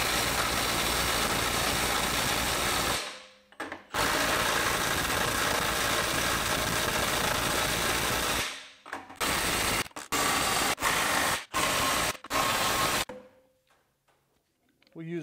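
Milwaukee 2960 mid-torque cordless impact wrench on a full 5 Ah battery in mode 3, its highest setting, hammering a fastener tight in a loud sustained burst of about three seconds, then a longer run, then several short stuttering bursts.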